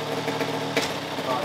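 A dirt bike engine idles indoors in a bedroom with a low, uneven rumble while several excited voices talk loudly over it.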